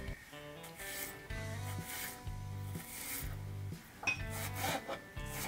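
Knife cutting vegetables into thin long strips on a board, a quiet steady series of repeated rasping strokes in an even rhythm, close by with no talk.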